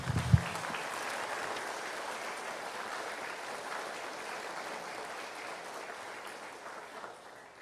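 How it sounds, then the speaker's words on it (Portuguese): A church congregation claps together in sustained applause during a family worship service, a broad even wash of many hands that starts sharply and gradually fades toward the end. "Uma salva de palmas para o Senhor."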